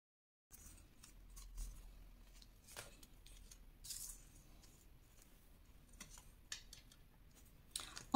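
Scissors snip a paper frame for a Christmas pop-up scrapbook album page in quiet, close, intermittent cuts, with faint rustling of the paper between the snips.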